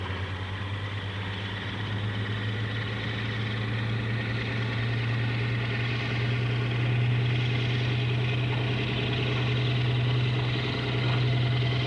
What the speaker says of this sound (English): D0820 Falcon was another one-off prototype locomotive.